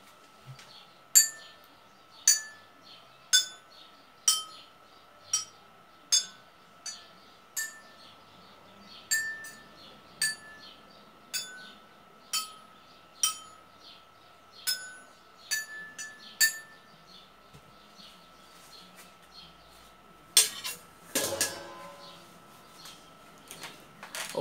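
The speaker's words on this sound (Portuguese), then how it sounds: "tem alguns copos que eu vou agora tocar com essa colher" A spoon taps a row of water-filled drinking glasses one at a time, about fifteen clear ringing pings at an even pace, each with a short bright decay, then a brief clatter of rattling glass near the end.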